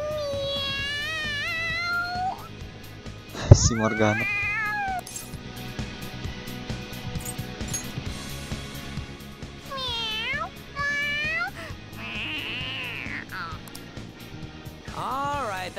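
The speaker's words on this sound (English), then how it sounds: "That's enough, you stupid cat." Morgana, the cat from the Persona 5 video game, meows excitedly in a string of rising and falling cries, with a brief impact and game music underneath and a voice speaking in between.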